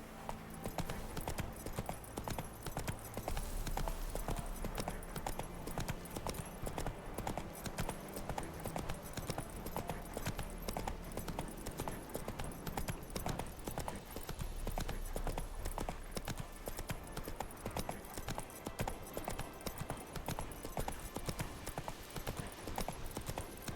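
Horse hooves clip-clop steadily in The Witcher 3 video game, a continuous, moderately loud rhythmic trot over layered game music and ambience, with occasional low voice.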